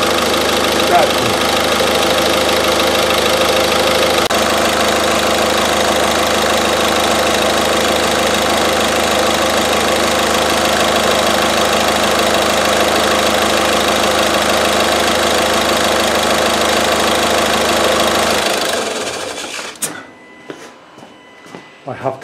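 A Ford S-MAX 1.6 TDCi diesel engine idles with a steady, even rumble for about eighteen seconds, then shuts off and falls quiet, leaving only faint handling noises.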